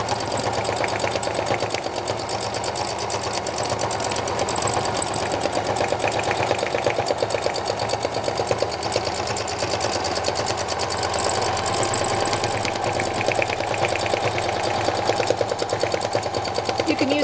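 Sewing machine stitching a spiral in solid purple thread on a painted clutch bag, running as a steady, fast, even needle rattle that continues unbroken at moderate loudness throughout.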